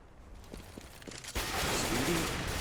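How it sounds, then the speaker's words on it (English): Counter-Strike match on the Cache map with AK rifle fire and a grenade: a few quiet shots crack first, then a loud burst of gunfire and explosion noise fills the rest, with a voice underneath. "Speedy actually follows up with the AK shot onto the right side over by the white box"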